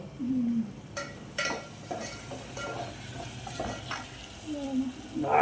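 Spices sizzle and crackle softly in hot oil, tempering for pulao with potatoes, peas and onion, while a spoon stirs and scrapes the pan in intermittent strokes, with a voice murmuring faintly.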